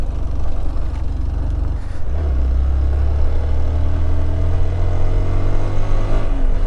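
A Hero Xpulse 200T motorcycle climbs a rough, boulder-strewn mountain road near Gorubathan, its engine droning loud and close, dipping briefly before the revs settle into a steady, rising pull.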